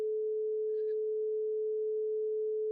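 A single pure test tone plays steadily at a mid pitch, loud and unchanging for the whole stretch, with only a faint brief blip in the background and no talking.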